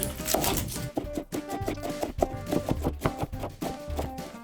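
A knife slices garlic cloves very thin on a cutting board, giving a quick, steady series of close, soft taps with no voices.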